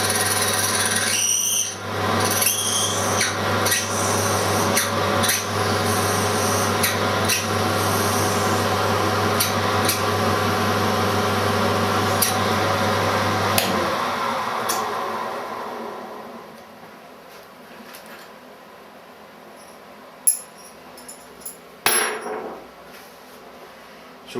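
An oiled reamer cuts holes in metal: a steady grinding whir runs for about fifteen seconds, then falls away to quieter machine hum with a few sharp knocks.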